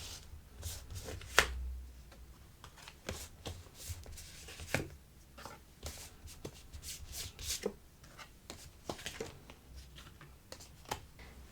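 Soft, quick riffling and tapping of tarot cards being shuffled and drawn, in irregular bursts of crisp flicks, close and quiet with no talking.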